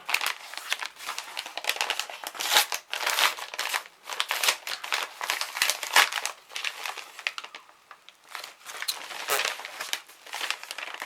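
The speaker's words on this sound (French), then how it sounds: "Et je vais ouvrir le courrier de Viviane du 67." Paper crinkling and rustling close up as a mail parcel is opened by hand, busy continuous crackles and crumples with brief pauses, no talking.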